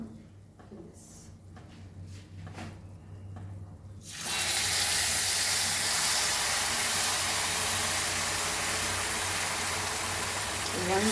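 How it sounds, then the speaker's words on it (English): Hot butter poured over dry Goan vermicelli (seviyan) gives a sudden loud, steady hiss that begins partway through and holds to the end, after a quieter stretch of faint kitchen sounds. "So now we will add our hot butter to this."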